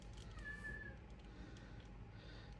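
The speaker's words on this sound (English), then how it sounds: "my cat is coming" A house cat gives one drawn-out meow, faint and somewhat distant, over steady low room noise, with no talking.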